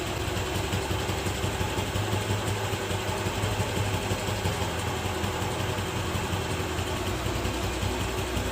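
A motorcycle engine idles steadily at its lowest RPM while the air-fuel mixture screw is being set, a continuous low, even rumble running close and unbroken throughout.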